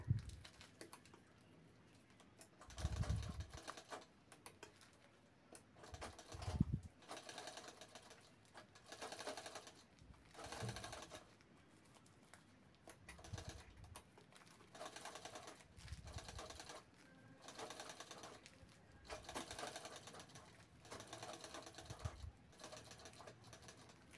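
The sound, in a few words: sewing machine stitching a sling bag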